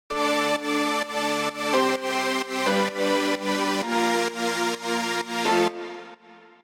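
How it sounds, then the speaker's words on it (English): Chord stack of piano and saw synth layers from a remake, sustained bright chords changing every second or so, moderately loud and alone before fading out. "One is the piano layer and the other is the saw chord layer."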